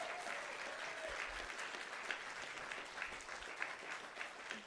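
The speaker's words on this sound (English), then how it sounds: "One more round of applause for Dean Pillow." Faint, distant audience applause at a livestreamed lecture event fills the clip as a continuous wash of clapping with no clear individual claps.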